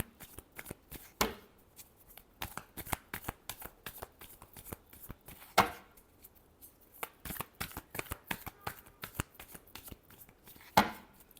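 Tarot cards being shuffled in a run of quick, crisp riffling bursts, with a few louder slaps as the deck is squared; close and alone, no talking.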